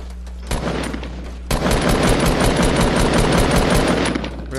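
Loud, rapid automatic gunfire in a video game, a sustained stream of shots that briefly breaks, then roars back for several seconds before cutting off.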